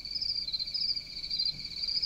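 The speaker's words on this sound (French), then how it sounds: "j'ai un fond sonore de grillon" Software-generated cricket ambience, a steady high-pitched continuous chirping drone playing evenly throughout with no voices.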